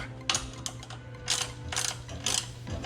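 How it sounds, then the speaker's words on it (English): Ratcheting and metallic clicking of a wrench tightening the swingarm collars on a GoPowerSports Mega Moto 80/105 minibike, heard in several short bursts up close with quiet gaps between them. "I'm tightening each collar"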